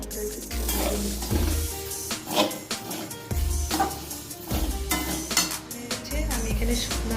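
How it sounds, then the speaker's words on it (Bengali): Mung dal fries and is stirred in a pan: a busy sizzling hiss under repeated scraping and clinking of a spoon against the metal, along with intermittent low rumbling, close and loud, with no voices. "মুগ ডালটা ভেজে নিচ্ছি"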